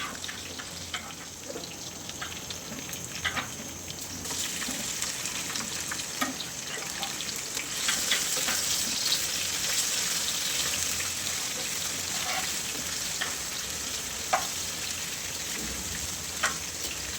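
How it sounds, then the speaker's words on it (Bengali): Lentils with green chilies frying in oil hiss with a soft, steady sizzle, quiet and continuous, with occasional small pops and scrapes. "আমি এখন ডালটাকে অনেকক্ষণ ভুনা করব"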